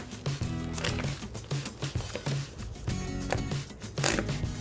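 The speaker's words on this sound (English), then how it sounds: "Let's rip that open." A plastic package of old world sausage is torn and crinkled open by hand, with close, loud rustling, crackling and ripping in irregular bursts.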